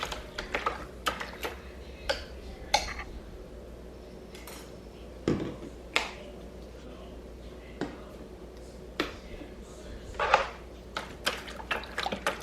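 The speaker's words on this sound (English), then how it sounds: "I found like a little wooden stick that I'm using to stir the color into the hot water." Scattered light clinks and taps of a small wooden stick against a container while stirring black hair dye into hot water, irregular and close, with faint liquid movement between them.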